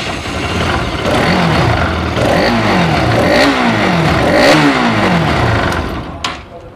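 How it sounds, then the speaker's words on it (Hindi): A Pulsar RS 200 motorcycle with a faulty fuel pump and a starting problem catches and revs, its engine note rising and falling in several close, loud pulls before settling back toward idle. "अब मैं चाबी ऑन करके अब स्टार्ट करके देखूँगा स्टार्ट हो रही है नहीं हो रही।"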